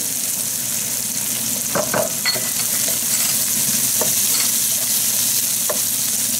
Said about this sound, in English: So this is the hot oil that we fried the fish in. So we'll add the shallots.